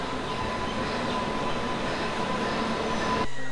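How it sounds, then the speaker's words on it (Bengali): The Kolkata–Silchar special train pulls into a station platform with a steady low rumble of wheels on rails and a thin tonal whine, cutting off abruptly near the end. "ট্রেন প্ল্যাটফর্মে দিচ্ছে"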